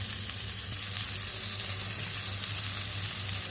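Fish fries on a flat tawa with oil, giving a dense, constant close-up sizzle and crackle alongside a low steady hum, with no talking.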